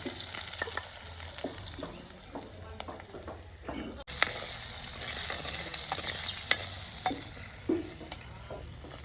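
Onion and potato curry bubbles and sizzles in a pan over a traditional clay stove, with steady frying hiss and scattered scraping stirs close by.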